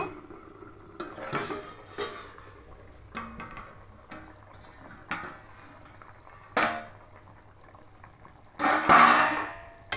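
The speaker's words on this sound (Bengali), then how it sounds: "এবার ঢাকাটা খুলে নেব।" A metal lid lifted off a cooking pot of simmering fish curry on the stove, a few close clinks and clatters of metal scattered through quiet kitchen background, ending in a louder rattle.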